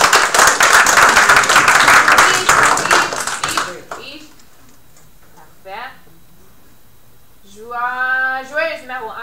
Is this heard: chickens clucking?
no